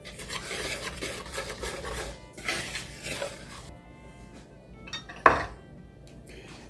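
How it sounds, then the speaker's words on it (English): A whisk scraping and clinking around a bowl while mixing yeast, salt and liquid for dough, a fast, close rasping stir that gives way to quieter scrapes and one sharp clink near the end. "Now we'll whisk that all together."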